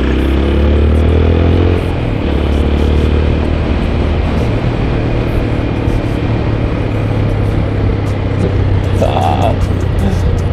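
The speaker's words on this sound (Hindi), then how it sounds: "तो इसलिए हम फिर से बाइक को स्टार्ट करते हैं और चल पड़ते हैं आगे।" An Apache RTR motorcycle engine and exhaust hum steadily and loudly while riding, with wind rushing over the microphone throughout.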